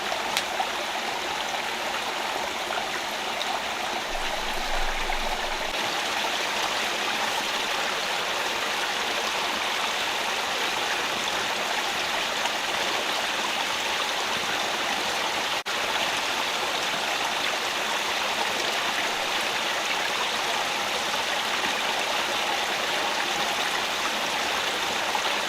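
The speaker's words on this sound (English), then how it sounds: "The water flows around her front door." A rainforest river flows steadily in a constant broadband rush of water, close and fairly loud, with an even, unbroken texture and no voices.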